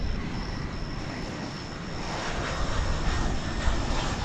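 Airliner on the flight from Oklahoma City passing near DFW Airport, a steady broad engine roar holding through the whole stretch and swelling slightly toward the end, with no talk.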